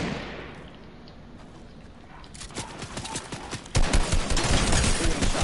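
Gunfire in a video game starts as scattered distant shots under a hiss, then swells into a dense, loud, close volley of rapid shots near the end.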